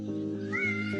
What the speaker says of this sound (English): Oh my god, that's a fluffy cat.